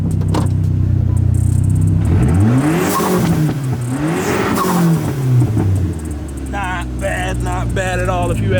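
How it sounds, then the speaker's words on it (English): A Dodge SRT4 engine revs hard twice in quick succession, rising and falling loudly close by over a steady idle, with a blow-off valve release; people talk afterward. "Let's get a rev before the oil actually gets out in the engine."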